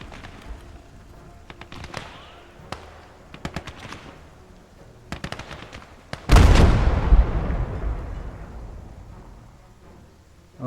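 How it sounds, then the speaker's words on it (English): Heavy artillery fire in the WWII battle game Blood Red Snow: scattered sharp gunshots and cracks, then a massive booming blast whose rumble slowly rolls away and fades. "That's some kind of piece of heavy artillery."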